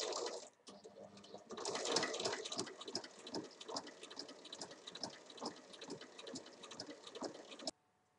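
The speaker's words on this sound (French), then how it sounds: "Et on va faire une piqûre à 1 mm." Domestic sewing machine running a 1 mm topstitch along the folded edges of small 8 cm fabric strips for a zippered backpack, a steady fast mechanical patter of needle strokes lasting several seconds, close and moderate in level.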